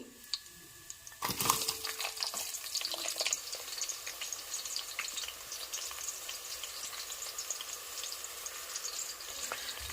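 Onions sizzle in hot oil with cardamom, kasuri methi and fennel for a jackfruit pulav, starting with a sharp crackling burst as they hit the pan, then settling into a steady close-up frying hiss.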